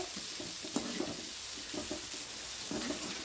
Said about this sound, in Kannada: ಇವಾಗ ಇದು ಚೆನ್ನಾಗಿ ಫ್ರೈ ಆಗ್ತಾ ಇದೆ